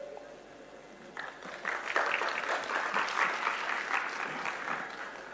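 Audience applause breaks out at a Punjab health department event launching community clinics, starting suddenly and swelling into sustained, dense clapping from a sizeable crowd.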